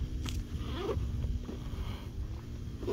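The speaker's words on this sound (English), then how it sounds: "zip this back up" A zipper is drawn closed on a fabric UTV drive belt storage bag holding a CVT belt, with short close ripping strokes in a quick, uneven series.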